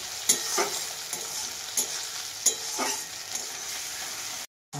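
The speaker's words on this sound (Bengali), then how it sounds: "আমার টমেটো আর পেঁয়াজটা ভাজা হলো" Tomato and onion frying in a pan, a steady close sizzle broken by several scraping stirs of a spatula, with a brief silent gap near the end.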